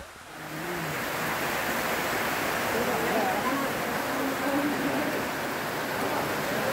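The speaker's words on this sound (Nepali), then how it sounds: "खतरा पानी पऱ्यो" Heavy rain pouring in a steady, dense roar that barely changes at a village snack shop in Nepal, with faint voices buried underneath.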